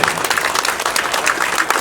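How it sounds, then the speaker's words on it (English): Dense, steady applause from a crowd at a PBA bowling tournament, loud and continuous with no gaps. "how about a nice round of applause for all these great competitors?"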